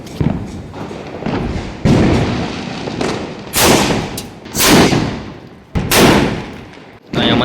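Marshal firecrackers bursting outdoors on Diwali: a series of loud, sharp bangs at irregular intervals, each with a short rumbling tail, growing heavier toward the end.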